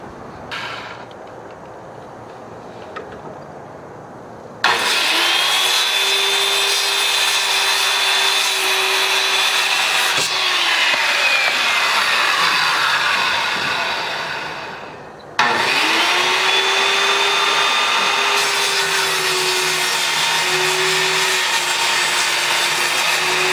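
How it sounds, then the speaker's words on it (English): A circular skill saw cuts through shed roof boards in two long passes, each a loud, close motor whine that bogs into a rasping cut and then winds down, with a short idle gap between them. "I can come up here with a skill saw and cut them all off."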